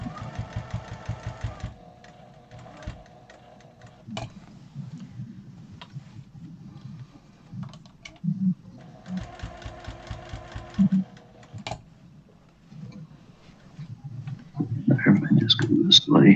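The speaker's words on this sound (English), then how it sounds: "let's sew our handles now" A sewing machine stitching the handles onto a large grocery tote bag, running in two rapid buzzing bursts separated by pauses, with a voice talking toward the end.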